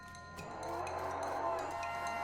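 Cows in the video game West of Loathing moo in a low, drawn-out call over a soft steady game background, faint and alone without talking.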